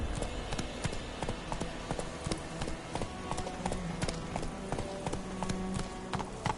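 Roach, a horse in The Witcher video game, gallops with a steady rhythmic clip-clop of hooves, close and clear throughout, with faint game ambience beneath.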